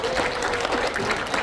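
An audience at a political forum applauds introduced guests with a brief burst of dense, steady clapping that fills the room.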